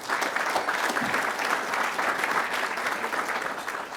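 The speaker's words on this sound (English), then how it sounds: "Give her a round of applause for that" An audience gives a singer a round of applause after her rendition, a dense, steady roar of many hands clapping for the full stretch, loud and close with no voices over it.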